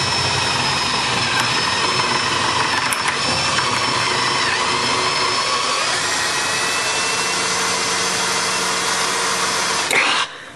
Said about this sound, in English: you gotta drill through to get the head off the thing so you can get it off the hinge